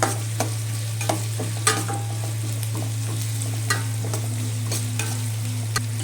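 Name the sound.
frying onion with cumin and spices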